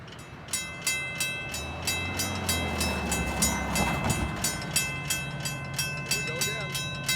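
Freight train approaching and passing a level crossing at Pefferlaw Road, Pefferlaw, its wheels clacking in a steady rhythm over rail joints while a faint horn tone carries over the rolling rumble, moderately distant.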